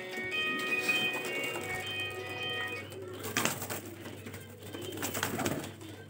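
Highflyer breeder pigeons coo around their coop in Lahore, a soft, steady murmur of overlapping calls with rustling movement and a few louder bursts of wing or handling noise.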